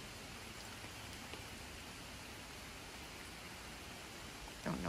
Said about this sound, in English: It's more of a very soft, light, kind of sprinkly rain